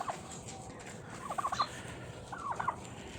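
Turkeys on a village farm gobble in two short rattling bursts against a quiet outdoor background, moderately distant and with no talk.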